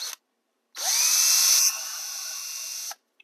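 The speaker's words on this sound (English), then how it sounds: "The easiest way to do that is, or at least to start it, is with a power drill." Power drill boring a hole through foam for a fake rock arch: a short burst, a pause, then a loud whining run of about two seconds that drops slightly in pitch before cutting off.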